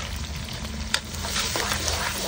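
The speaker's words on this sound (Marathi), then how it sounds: "लसूण हिरवी मिरची चांगलं फ्राय झालेले." Garlic and green chili fry in hot oil with mustard seeds and cumin, giving a steady close sizzle with a few sharp pops and brief stirring clatter.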